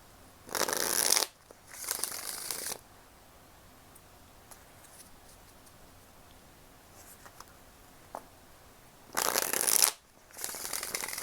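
An 1890 Grimaud Parisian tarot deck is riffled in short bursts of crisp card shuffling, two near the start and two near the end, with quiet pauses between and no talk.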